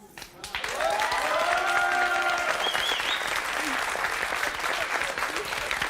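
A studio audience on a television set breaks into loud, sustained applause, dense even clapping that swells quickly after a quiet moment and holds steady, with a few voices and whoops mixed in.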